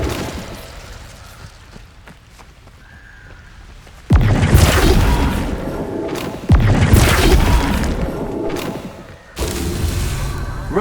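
Flipendo spell impacts in Hogwarts Legacy: three heavy booming blasts, each followed by a loud rumbling wash that trails off, after a quieter lead-in.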